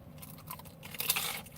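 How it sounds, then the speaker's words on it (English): A close, brief crunch of teeth biting into the fried breading of Applebee's fish and chips, a few crisp crackles rising near the end of the moment, with no talking. "You can hear that crunch."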